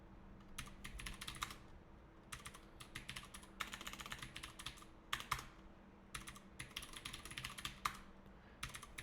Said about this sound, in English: Key sounds.